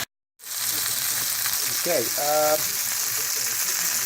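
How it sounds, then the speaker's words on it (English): Steady sizzling of broccoli, cauliflower and zucchini stir-frying in a hot pan, continuous and close, with a brief spoken word at the start. "I'm stir frying now broccoli, cauliflower, and zucchini"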